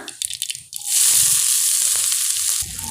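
Onion dropped into hot oil already holding mustard seeds and cumin bursts into a loud, steady sizzle after a few faint clicks, hissing close by for about two seconds.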